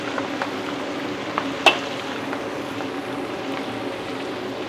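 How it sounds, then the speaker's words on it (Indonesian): Tempeh with garlic and shallots stirred in a frying pan, a steady sizzle with a few soft scrapes and one sharp clink of the utensil against the pan, close by and with no voices. "Tempenya kita masukin. Ya, ini kita aduk-aduk sebentar aja."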